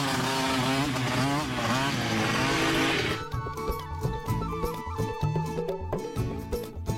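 A cartoon motorcycle engine from Motu Patlu revs with a loud, continuous buzzing drone for about three seconds, then gives way to choppy, quieter bumps and sound effects.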